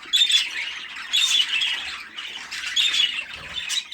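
Japanese Rainbow budgerigar chicks squawking in harsh, rasping bursts, several calls in quick succession, close and loud with no talk.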